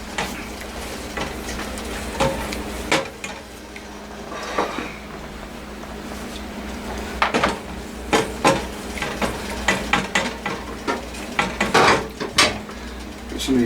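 Green tomato slices frying in a cast iron skillet, with a steady low sizzle under repeated clattering knocks and thumps as more slices are set into the pan, close up and without talk.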